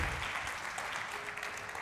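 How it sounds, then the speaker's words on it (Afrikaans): An audience at a church gathering claps for Liezle, a brief burst of steady, moderately loud hand clapping heard alone without talk. "As jy vir Liesel 'n lekker hande klap"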